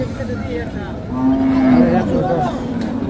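A bull calf moos once at a cattle market, a long low call up close, while people chatter faintly in the background.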